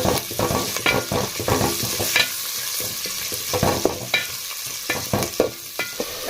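Onions fry in oil in a pan for egg biryani, a continuous close sizzle with frequent scraping and stirring knocks in an irregular rhythm.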